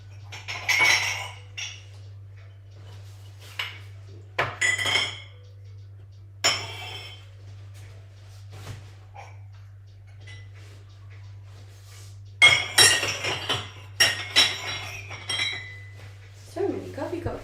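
Coffee cups and dishes clinking in bursts inside a noisy apartment, sharp ceramic and glass chinks scattered irregularly over a steady low hum, with quiet gaps between clusters.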